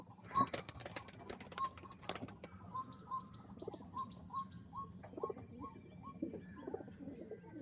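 Pigeons of fancy Indian breeds, including a pure white-lined female, coo repeatedly in a loft, soft and mid-distance, with a few chirps and wing flaps near the start and steady background hum.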